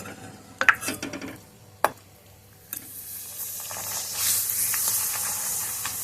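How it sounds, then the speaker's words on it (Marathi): Homemade poha papad dropped into hot oil, with a few sharp clinks and stirring knocks before a rising, broad frying hiss and sizzle fills the rest. "पापड तळून घेणार आहोत"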